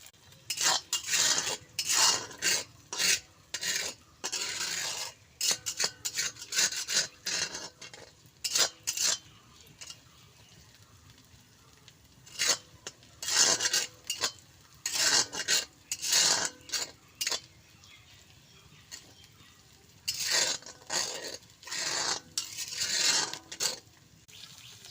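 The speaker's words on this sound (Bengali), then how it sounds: "দেখো এবার আমি সব কিছু একসাথে মিশিয়ে ভেজে নেব ভালো করে" Khichdi ingredients, rice with ginger, chopped onion, garlic, eggplant and potato, stirred and fried in a pan with a metal spoon, giving repeated loud scraping and clattering strokes in uneven bursts with a faint sizzle beneath.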